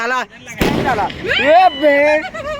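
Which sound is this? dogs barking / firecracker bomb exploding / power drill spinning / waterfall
firecracker bomb exploding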